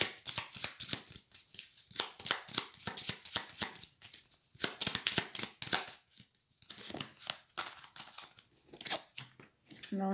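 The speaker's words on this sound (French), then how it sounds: "je vais mélanger les cartes" A deck of tarot cards is shuffled by hand in a quick, uneven run of crisp riffles and slaps. The shuffling is close and continuous, with short pauses between bursts.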